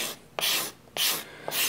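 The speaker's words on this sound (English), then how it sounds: "I think you can see here that this style of scraper really deals beautifully with tear out" A hand scraper with a short hook burr shaving wood while carving a guitar archtop: three long, rasping strokes, each starting with a soft catch and rough and breathy, close and clear with brief pauses between.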